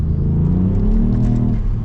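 A Ford Fiesta ST with a Stage 1 tune is floored from about 20 mph, its engine rumbling loudly under full throttle as the wheels spin, heard from inside the car.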